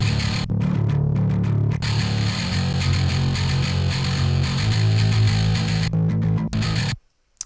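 Dense, saturated metalcore guitar distortion played through a 4x12 Orange custom cab simulation miked with a 421 drones loudly and continuously, chugging with brief gaps before cutting off abruptly near the end.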